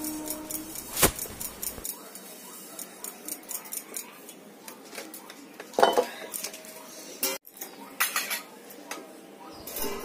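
Fried amla scattered and poured onto a stone grinding slab in a village kitchen, heard as a string of light clattering, ticking impacts and scrapes close by, with a louder knock near the start and another around the middle.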